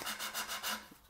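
A small handheld diamond pad rubbing back and forth over a quartz sill, producing quick, rhythmic, close-up gritty strokes about five times in just over a second.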